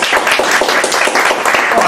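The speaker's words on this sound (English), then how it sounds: "let's give Billy Nichols a very welcome round of applause" A room full of people claps in warm, steady applause for a guest at a business talk-show gathering, dense and continuous for the whole moment with no voices over it.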